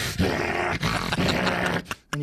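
A voice imitates a pit bull's playful tug-of-war growling with rough, sustained, raspy snarls, broken by a short pause before a final voiced burst.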